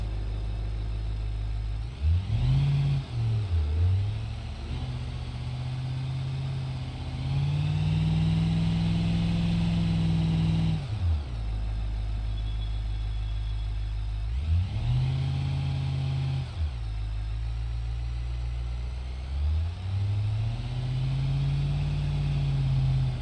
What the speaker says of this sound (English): we are in the cop car. Let's drive around for a few minutes